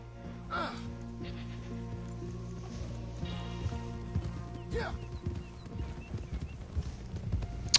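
Horse hooves clip-clop steadily at the stables in a video game, a continuous rhythmic walk over a low ambient hum, with brief whinny-like sounds and a voice speaking underneath.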